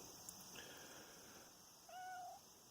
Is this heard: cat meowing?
yes